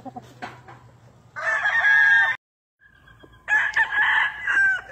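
A small black gamefowl rooster crows loudly and close by, two long strained calls separated by a brief silence, with faint background noise.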